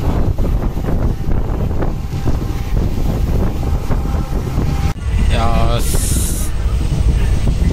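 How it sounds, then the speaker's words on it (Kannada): Strong wind roars steadily past a moving train, a loud, constant broadband rush that runs unbroken for the whole stretch, with a brief shift in tone partway through and faint voices beneath. "ಟ್ರಾವೆಲ್ ಆವಂತುಂಡು ಫುಲ್ ಗಾಳಿ"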